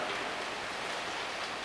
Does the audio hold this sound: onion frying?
no